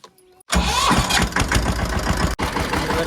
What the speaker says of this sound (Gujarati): ચાલો આપણે ટ્રેક્ટર પેલા છોડવીને જ છીએ.